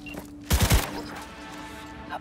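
A gunshot in Cyberpunk 2077 cracks once sharply, leaving a short rumbling tail and then a quiet electronic ambience hum.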